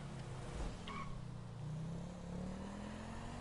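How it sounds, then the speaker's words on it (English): A motorcycle engine in a roleplay video game drones with a rising pitch as it accelerates, a continuous faint rev heard alone without talk. "Alright, that's a motorcycle."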